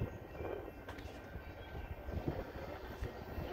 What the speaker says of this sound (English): UP West train number 52 to Chicago OTC is now arriving.